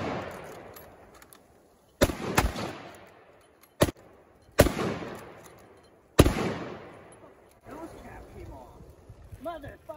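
Rapid rifle shots from a Mosin and a Kar98 in a speed-shooting contest, several sharp loud cracks at irregular intervals, each trailing into a long echoing decay, with a person talking faintly near the end.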